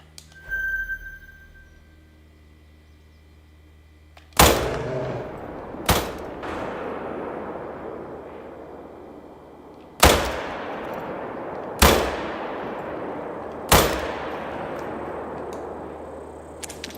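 Five sharp, loud rifle shots fired while hunting deer near a feeder in Mississippi, each a sudden crack with a short rolling echo, spaced irregularly over quiet outdoor background.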